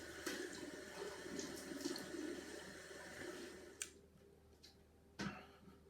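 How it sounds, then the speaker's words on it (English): A Leresche 901 open-comb safety razor is rinsed under a running tap, water splashing steadily and fairly close for several seconds before easing into quieter trickles and a couple of brief knocks. "Gonna rinse now"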